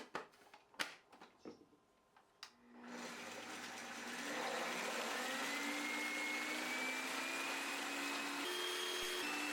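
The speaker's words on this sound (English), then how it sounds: "so scrape down the sides of the processor as needed, then keep blending." A food processor blends almonds into almond butter. Some brief clattering comes first, then the motor starts and runs as a loud, steady whir that rises slightly in pitch and keeps going with no talk.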